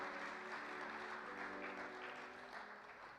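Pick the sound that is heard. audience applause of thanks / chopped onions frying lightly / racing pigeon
audience applause of thanks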